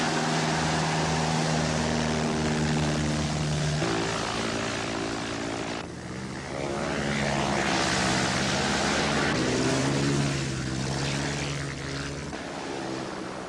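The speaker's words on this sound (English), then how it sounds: "You gotta learn to feel the aircraft." A propeller airplane engine drones steadily in flight during a flying lesson, a loud continuous hum with shifting harmonic tones that change pitch around the midpoint, filling the whole cabin without speech.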